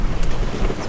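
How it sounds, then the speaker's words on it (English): Sailboat plowing through very high waves on an overnight ocean passage, a steady loud rush of wind buffeting the microphone and churning water, with no talking. "Lots of waves, very high waves"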